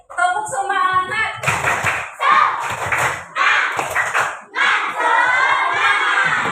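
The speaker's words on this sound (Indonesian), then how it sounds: "kakak mau minta tepuk semangatnya dulu ya" Fourth-grade pupils in a classroom perform a rhythmic spirit clap chant, bursts of loud shouted chanting punctuated by sharp clap and thump accents in a quick repeating pattern, close and energetic.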